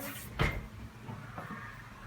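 A cutlery drawer in a well-equipped kitchen of a penthouse apartment in Ixelles slides shut with one sharp, close thud, followed by a fainter knock a second later, in an otherwise quiet room.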